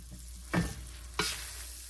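An alligator fillet frying in butter sizzles steadily, with two bursts of louder crackle as the fillet is flipped and more butter lands in the hot pan.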